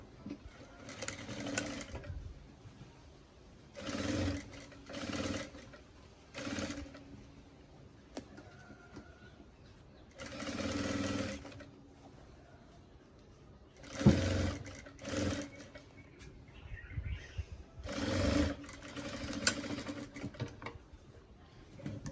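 Sewing machine stitching fabric panels together, running in repeated bursts of rapid mechanical whirring with short pauses between, close and clear with no talk.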